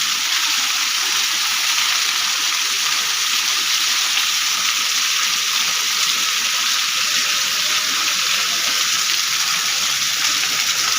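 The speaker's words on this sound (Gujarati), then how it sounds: "ધોધ માર વરસાદ આવ્યો" Heavy pouring rain roars in a dense, continuous broadband hiss, steady and loud throughout with no pauses.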